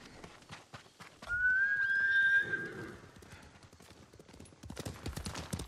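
A white horse in the video game Ghost of Tsushima gives a clear, loud neigh midway, with rhythmic hoofbeats clip-clopping before and after it.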